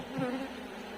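Bees buzz steadily inside a humid beehive of aggressive bees, a dense, continuous hum close up with no voices.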